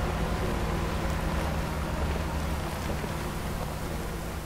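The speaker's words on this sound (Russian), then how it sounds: "Настоящий дождь, раскаты грома такие." Steady, dense rain hiss from a rain mod in the off-road driving game Spin Tires, loud and unbroken throughout with no distinct thunder clap standing out.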